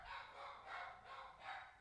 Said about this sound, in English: Again, sorry about the barking.